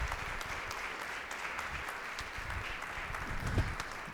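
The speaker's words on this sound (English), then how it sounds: "Can we give a round of applause again to Dr. Bullard?" Audience applauding at an evening event honoring Dr. Robert Bullard, a soft, fairly distant patter of many hands clapping that continues evenly and swells slightly near the end.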